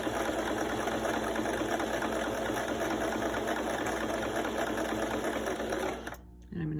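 A sewing machine runs continuously while stitching a curved fabric seam, a close, even mechanical whir and rapid needle clatter that stops abruptly near the end, with a voice speaking over it.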